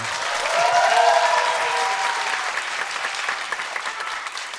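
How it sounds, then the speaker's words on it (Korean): A crowd applauds at a Korean nongak (farmers' music) talk session, with dense clapping swelling briefly near the start and then holding steady before thinning slightly toward the end, alone and with no voices. "박수 소리가 좀 작은 것 같습니다."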